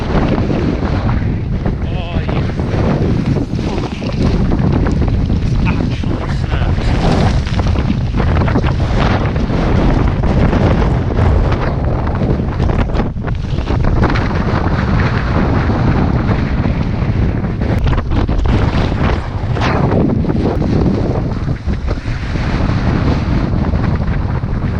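Strong, gusty wind at a wild camp in the Lake District, buffeting the microphone with loud continuous roaring and rumbling throughout, rising and falling in intensity.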